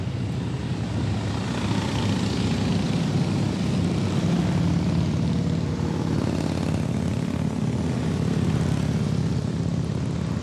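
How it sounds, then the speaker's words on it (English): A group of motorbikes roars past a parked Audi S4 B8.5, a loud, steady, unbroken engine drone that dominates throughout with no talking over it. "a bunch of bikes coming by. It's gonna be loud"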